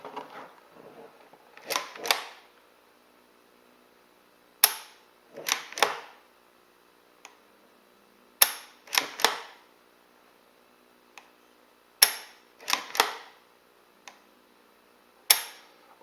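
A KJ Works KC02 CO2 pistol fires several sharp pops spaced a few seconds apart, each followed by a brief clatter of mechanism, close and fairly quiet with no talking.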